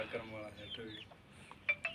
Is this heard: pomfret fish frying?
no